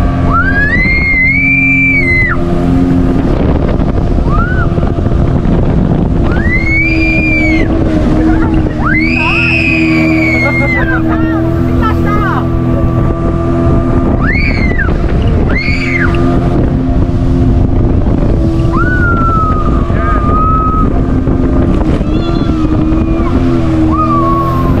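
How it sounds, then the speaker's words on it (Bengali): A loud, steady motorboat engine drones throughout a speedboat ride at a park in Lalpur, Natore, with wind rushing over the microphone and occasional high whining tones rising and falling. "আমরা এখন এই 3 জন স্পিড বোটে উঠব।"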